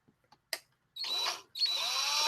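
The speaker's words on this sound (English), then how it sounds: "You can end up drilling all the way through." A small power drill bores a hole for pinning a miniature figure, with a few faint clicks and a tap followed by two close, sustained whirring bursts separated by a brief pause.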